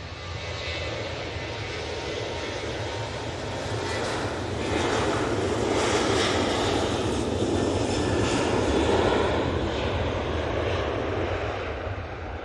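A Ryanair jet takes off from Manchester Airport bound for Marrakesh, its engines a broad continuous roar that swells over several seconds and then holds steady, heard from a distance without talk.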